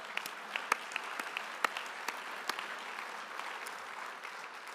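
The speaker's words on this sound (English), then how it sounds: "Give them applause." A luncheon audience claps, a light patter of scattered hand claps with a few sharper individual claps, fairly distant and moderate in level, with no voices over it.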